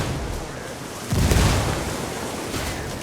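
A frag grenade goes off in the video game Ghost Recon: one broad, booming burst that swells suddenly midway, then fades into a continuous rumbling wash of ambient game noise.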